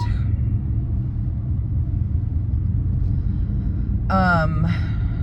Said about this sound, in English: this traffic is absolutely insane